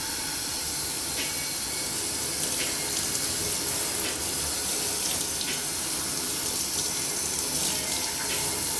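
A tap runs steadily while hair is washed, a continuous close hiss of flowing water with small splashy bursts, no talking.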